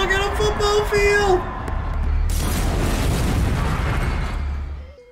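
Deep booming explosions from The Dark Knight Rises rumble through a stadium scene with a cheering crowd, a sustained low roar that fades out, with a voice talking over the start.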